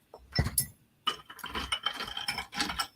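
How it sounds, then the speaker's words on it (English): Ice cubes drop and clink into a drinking glass being prepared for a Moscow Mule. Close, bright clattering bursts come first, followed by a run of repeated rattling clinks. "I got all my ice cubes."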